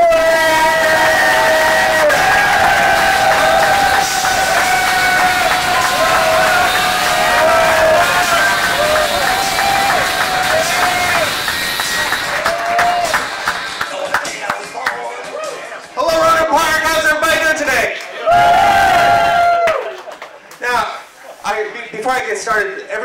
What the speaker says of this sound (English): Everybody put it together really big for Johnny Cornell